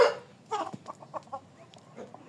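Five-month-old young chickens give a run of short, clipped clucks close by, one sharper call at the start and then scattered soft clucks with gaps between.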